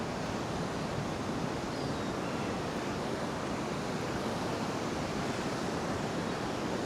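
Big ocean waves break on the shore at Paguera, Mallorca, a dense, steady roar of surf with some wind, continuous and fairly close, no voices.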